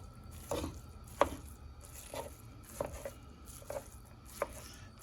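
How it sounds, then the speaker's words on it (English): Three pounds of 93 percent lean ground beef being broken up in a pan, giving soft, irregular squishing and chopping taps spaced across the span, fairly quiet with a low background hum. "this is 3 pounds of ground beef, 93 lean. So I just want to just break it up real good"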